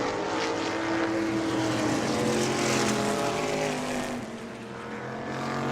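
Race cars roar around an oval racetrack at a family fun night in New Smyrna, several engines droning together from mid-distance, swelling and fading slightly as they pass.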